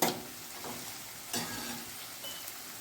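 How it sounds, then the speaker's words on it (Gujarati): Onions sautéing in a pan for Punjabi curd tikhari give a soft, continuous sizzle, with a few scraping stir strokes at the start, at about one and a half seconds and near the end. "આવી રીતે આપણે ડુંગળીને સાતળી લઈશું"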